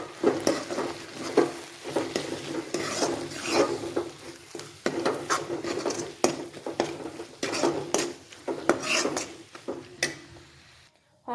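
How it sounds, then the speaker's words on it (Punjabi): Garam masala and coriander powder are stirred into baingan bharta in a pan, with repeated close scraping and clinking of a metal spoon against the pan in an uneven rhythm, alone and fairly loud. "ਗਰਮ ਮਸਾਲਾ ਲਿਆਏ ਇਸ ਵਿੱਚ ਹੀ ਆਪਣਾ ਧਨੀਆ ਪਾਊਡਰ ਮਿਕਸ ਕੀਤਾ ਹੋਇਆ ਹੈ ਇਸ ਨੂੰ ਵੀ ਐਡ ਕਰਾਂਗੇ ਚੰਗੀ ਤਰ੍ਹਾਂ ਮਿਕਸ ਕਰਾਂਗੇ"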